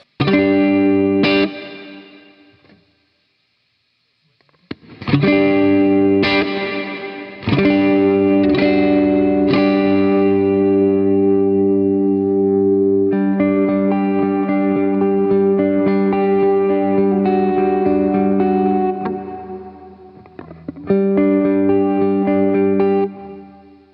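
Electric guitar played through an amp with a dry sound and no plate reverb, a few plucked notes then long sustained chords, loud and close, with a brief pause early on.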